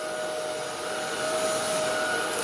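Proscenic cordless vacuum cleaner running on mode 1, a steady, loud whirring hum with a faint high whine that holds even and continuous throughout.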